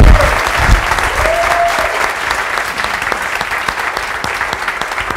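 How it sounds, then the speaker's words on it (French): Dense, steady audience applause fills a crowded NBA watch-party evening before a Wolves–Warriors game, many hands clapping continuously up close with a faint murmur of voices underneath. "Applaudis s'il vous plaît."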